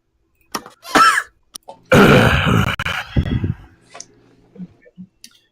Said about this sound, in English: followed by a very raspy cough